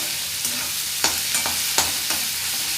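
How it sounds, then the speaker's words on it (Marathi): Chopped onion frying in a pan for a crab and prawn curry, giving a steady close sizzle with a few sharp scraping stirs of the spatula scattered through. "कांदा चांगला सोनेरी रंगाचा होईपर्यंत आपल्याला भाजून घ्यायचा आहे."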